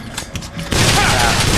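A burst of gunfire in the video game Bioshock Infinite: Burial at Sea, with a softer stretch of clatter and thuds before a loud, dense, sustained fusillade takes over.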